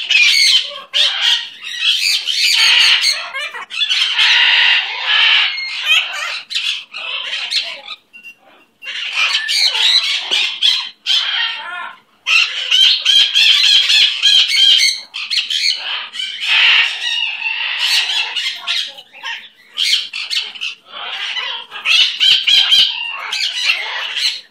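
A pet bird squawks and chatters almost continuously, with loud, harsh, close calls in dense bursts separated by only brief pauses.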